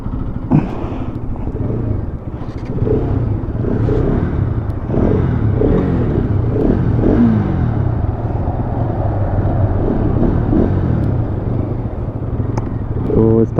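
Bajaj Pulsar NS200 and RS200 motorcycles idle and rev side by side in first gear at the start line of a 2024 drag race, a steady, loud engine rumble with a few throttle blips, and a voice talking over it.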